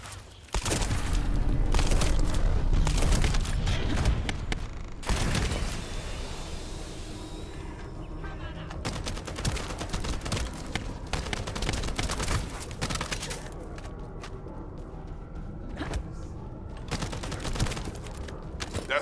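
Sustained gunfire in The First Descendant, a video game: dense, loud volleys of rapid shots and booms that pause briefly, then return as scattered bursts over a noisy firefight backdrop.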